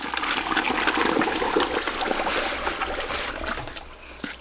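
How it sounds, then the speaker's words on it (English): Salt poured into a bucket while making coconut salt soap bars: a continuous grainy, hissing rush of falling crystals, steady and fairly loud, easing slightly toward the end. "First, I'm adding my salt."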